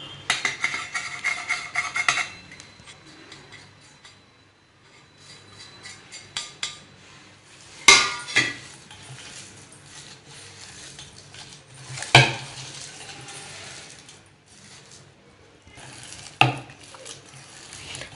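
Wood apple pulp is mixed with other ingredients in a bowl, giving sparse clinks of a utensil against the bowl and soft scraping, with a few sharper knocks and quiet gaps between.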